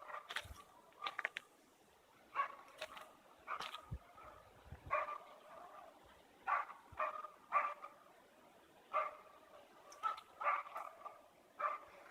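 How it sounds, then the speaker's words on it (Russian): A dog barks repeatedly outdoors in a forest on a windy day, sharp single and paired barks spaced irregularly, moderately distant, with some whimpering yips between them and no talk. "Собака лает."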